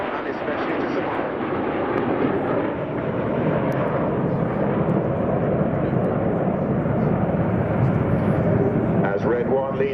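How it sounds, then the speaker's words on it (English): The RAF Red Arrows aerobatic jets fly at the Cosford air show with a loud, sustained roar that holds steady throughout, and an announcer's voice is heard faintly over the noise. "Red 1 leads the aircraft off to the left-hand side with a coloured smoke"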